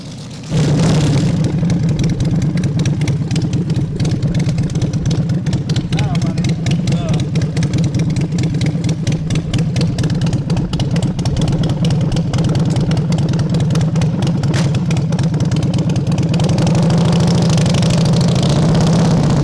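Engine of a Mint Customs custom motorcycle runs steadily and loud, idling with a low throbbing rumble, then revving and pulling away as it is ridden, continuous throughout.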